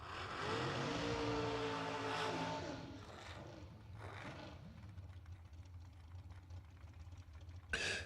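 Dragster engine at a drag strip during warm-ups, a loud sustained roar with rising and falling revs, then settling into a steady lower drone with a sharp burst near the end.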